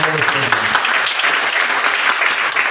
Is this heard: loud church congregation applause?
yes